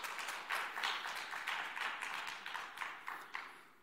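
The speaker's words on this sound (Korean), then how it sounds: "박수하시겠습니다" A church congregation at a Sunday service claps in welcome, a moderate, fairly even round of applause that carries on for a few seconds and gradually thins out toward the end.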